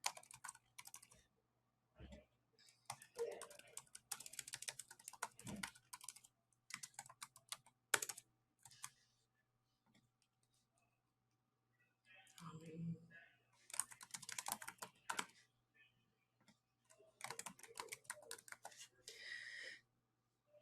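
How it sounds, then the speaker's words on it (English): Someone types options into Google Forms on a computer keyboard, with bursts of quick, close key clicks broken by short pauses and a longer stretch of near silence midway. "So I'm going to type in my options."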